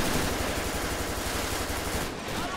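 Rapid automatic gunfire in the video game GTA 5 during a police gang-unit patrol, a dense, loud, unbroken stream of shots with no pauses.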